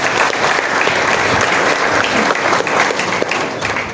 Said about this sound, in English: Please have a warm round of applause for all awards.